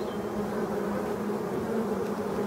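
Black bees buzz steadily around the entrance of a forest hive in Brittany, a close, continuous droning hum that holds alone throughout.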